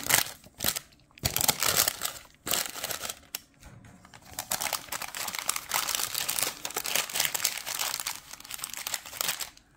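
Parchment paper crinkles and crumples loudly up close as it is folded over chicken kedjenou, in bursts of rustling with short gaps between.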